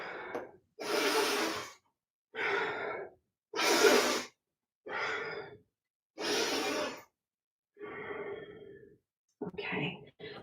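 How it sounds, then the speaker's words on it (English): Slow, deep yogic breaths during a yoga session, alternating long airy inhales and exhales, about eight close breaths separated by brief pauses, with no talking. "So we'll breathe in one way and breathe out the other."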